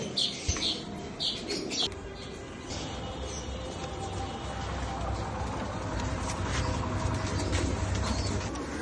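Young racing pigeons in a loft, soft cooing and chirps mixed with a few wing flaps and shuffling, close by over a steady background hum.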